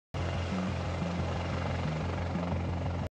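An Italian Army AW249 helicopter roars steadily overhead, with loud continuous engine noise and a pulsing rotor thump throughout.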